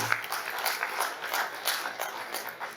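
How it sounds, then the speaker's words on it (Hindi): Audience applause at a youth parliament event in a hall, a steady, dense clapping from many hands that holds at an even level throughout with no voices on top. "एक बार जोरदार तालियां बजाएं"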